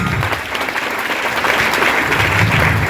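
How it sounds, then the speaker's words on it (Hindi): Loud, dense applause from an audience cheering for Sanjeev sir, a steady wash of many hands clapping together that holds at full strength throughout without a pause. "एक बार संजीव सर के लिए अगेन जबरदस्त तालियां होनी चाहिए"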